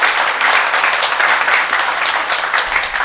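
A church congregation applauds a visiting deacon from Taiwan, a loud, dense wash of clapping that holds steady from start to finish with no voices breaking through.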